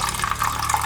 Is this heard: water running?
yes